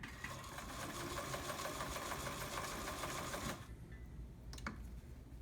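An Omega Ultra 2000 sewing machine stitching smoothly and steadily for several seconds, then slowing to a softer run with a couple of light clicks near the end.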